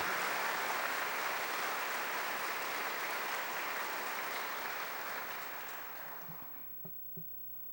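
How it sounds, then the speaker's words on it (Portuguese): A church congregation gives sustained applause during a sermon, a dense wash of clapping that stays loud for several seconds, then gradually thins and fades, leaving a few scattered claps near the end. "Pode aplaudir para valer"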